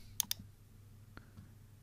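Two quick, sharp mouse clicks land close together, followed by a couple of fainter ticks in a quiet room.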